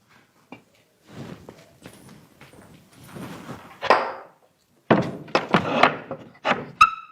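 A kitchen door is shut at home, heard as a series of close, dull thuds and knocks spread over several seconds, ending with a sharper bang.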